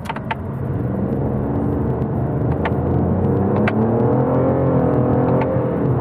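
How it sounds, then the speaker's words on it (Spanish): Loud, steady engine drone from inside a 2022 Toyota Aygo X Cross with a naturally aspirated engine and automatic gearbox, its pitch rising and shifting as it accelerates, with occasional clicks and road rumble underneath. "al ser un motor aspirado es un coche muy ruidoso"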